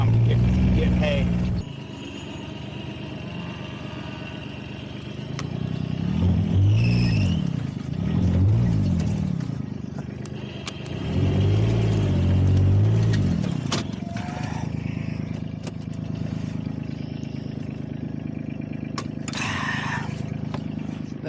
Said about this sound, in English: That squealing you heard was the fan belt.